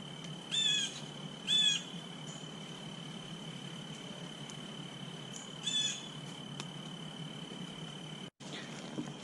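Outdoors, a steady high cricket and insect drone runs throughout while birds give a few short, sharp chirping bursts, two close together near the start and another later, some moderately near.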